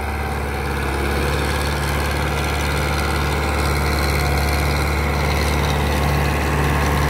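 A new Powertrac Euro 60 Next tractor engine idles while warming up, producing a steady, loud, close diesel rumble with an even throb that holds unchanged throughout, with no voices over it.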